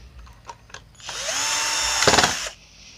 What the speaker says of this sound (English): And then we can gladly bolt that into place.